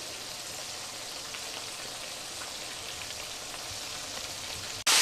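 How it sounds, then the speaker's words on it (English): Chicken frying in oil for a Southern fried chicken recipe, giving a steady, dense crackling sizzle that holds evenly at close range with no talk. "now we have it frying"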